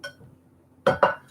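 Two quick metallic knocks on the bottom of a heavy stainless pan close by, ringing briefly, after a short faint tap at the start.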